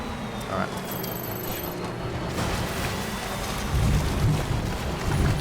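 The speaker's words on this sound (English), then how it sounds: "Okay, the rain is beginning." Rain beginning in the video game Death Stranding, a steady broadband wash of falling drops that builds gradually and thickens toward the end, with faint low rumbles beneath and no talk over it.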